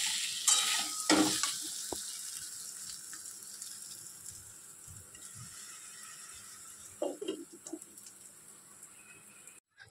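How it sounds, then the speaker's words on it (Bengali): A jaggery sherbet drink stirred by hand in a home kitchen, a spoon clinking and swishing faintly in the glass, with some watery rattles early and again near the end, against a quiet room hiss. "তো একটু ছিল, সেটা দিয়ে ওদের শরবত করে দিচ্ছি"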